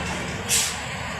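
A short hiss of air releases from a departing bus's air brakes over a low idling engine rumble.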